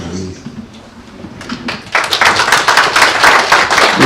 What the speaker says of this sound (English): Let's give a strong applause to Dr. James Nikau.